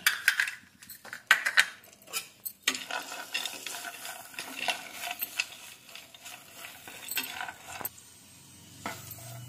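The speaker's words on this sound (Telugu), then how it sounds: "తర్వాత బాదం పప్పు, జీడిపప్పు, ద్రాక్ష వేసి ఫ్రై చేసుకుందాం." Almonds, cashews and raisins fry in cream in a pan for ridge gourd payasam, with a soft sizzle under repeated scraping and clinking of a spoon against the pan, close by and without talk.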